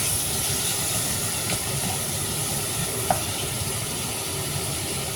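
Chicken and firik simmer together in a pot for soup, a steady hissing bubble with a faint background hum and one small clink partway through, continuous and moderately loud with no talking.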